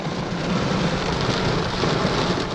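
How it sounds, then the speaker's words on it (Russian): Heavy rain pouring down on a car during stormy weather on a fishing trip by a river in Mordovia, a dense, loud, steady drumming roar throughout, with no voices. "и пошел ливень"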